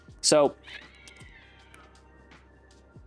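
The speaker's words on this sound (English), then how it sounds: "that was a really loud cat" A loud, sharp cat meow cuts in briefly near the start, then a faint higher cry trails off beneath someone talking indoors.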